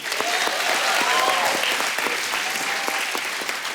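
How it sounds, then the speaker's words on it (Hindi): A comedy show's studio audience claps loudly and steadily throughout, a thick, continuous roar of hands with a few sharper individual claps standing out and faint voices underneath. "जोरदार ताली पहले ही"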